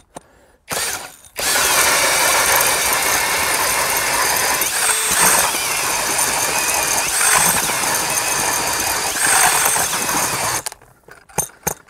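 A Ridgid Octane cordless drill driving a KDrill ice auger bores through thick ice, its loud, steady grinding whir running for about ten seconds before cutting out, with brief starts and stops at either end.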